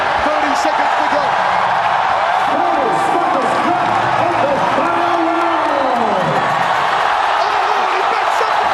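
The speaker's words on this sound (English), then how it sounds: "This crowd trying to rally Bellion home." An arena crowd at a ONE Championship fight in Manila keeps up a loud, continuous roar of cheering. A commentator talks over the noise throughout.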